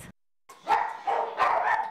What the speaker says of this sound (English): They're just a few of the dogs found here at the Kent County SPCA.